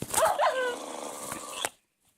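Dogs barking and yelping in the video game Minecraft, a burst of sharp overlapping barks near and loud for about a second and a half before cutting to silence.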